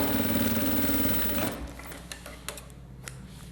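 Sewing machine backstitching at the start and end of a seam on a slim zip pouch, a loud, rapid, steady needle run that stops after about a second and a half, followed by quiet handling clicks.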